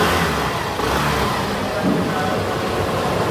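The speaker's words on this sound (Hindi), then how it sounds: "देखो इंजन इतना रिफाइन किया गया है ना, इतना रिफाइन किया गया है, बहुत ही मीठा आवाज आ रहा है, काफी स्मूथ साउंड" A Hero Glamour Xtec 125 motorcycle engine runs close by with a smooth, steady hum at constant loudness throughout, no knocks or rattles standing out.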